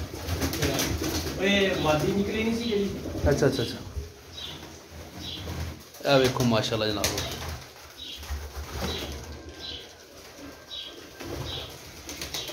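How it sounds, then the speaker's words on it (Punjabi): Pigeons coo and flap their wings close by in a loft of Sialkoti-type birds, with wing bursts standing out among the coos while someone talks over them. "ਇਹ ਪੱਟਿਆ ਕਬੂਤਰ ਥੱਲੇ ਕੋਡਾਂ ਦੇ"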